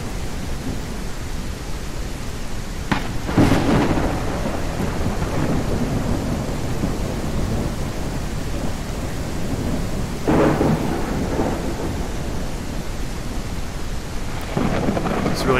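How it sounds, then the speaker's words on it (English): Heavy rain pours steadily through a thunderstorm in the survival game SurrounDEAD, with loud rolls of thunder breaking in three times over the constant wash of rainfall; no one speaks. "Adds to the danger here, doesn't it? This storm. Can't hear nothing going on around you."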